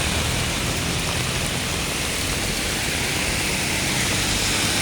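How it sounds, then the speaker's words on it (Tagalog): A heavy downpour during a typhoon at an expressway toll gate, a dense, unbroken roar of rain hammering the surroundings, steady and loud throughout with no talking. "Gana update dito sa mga ganap ng malakas na buhos ng ulan."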